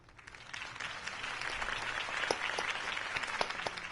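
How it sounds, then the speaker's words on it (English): Crowd applause in the Batman Telltale video game, a steady wash of many hands clapping that swells and holds throughout, moderately loud and without talk. "could have heard that applause"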